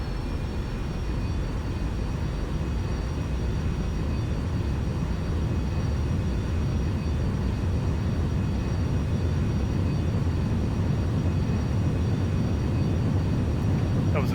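Continuous loud roar of a Boeing 747's engines at full throttle during takeoff from Gatwick in the X-Plane 11 flight simulator, a steady rumbling wash with no breaks.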